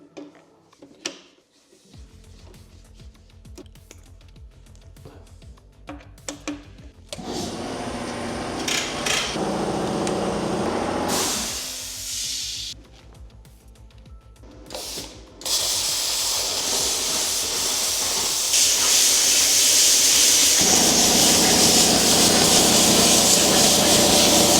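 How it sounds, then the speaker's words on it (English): A plasma cutter slicing through metal: a few intermittent hissing bursts, then a loud, steady, close roaring hiss that builds and holds to the end. "I've never used a plasma cutter before"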